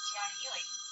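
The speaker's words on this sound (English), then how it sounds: "Oh, it's an irritating phone call." A phone rings with a bright, electronic ringtone tone, steady and continuous for about a second.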